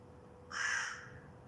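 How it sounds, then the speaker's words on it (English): A single crow caws once in a short harsh squawk, clear and fairly near, against quiet outdoor background. "So that's what they're squawking at, the cat"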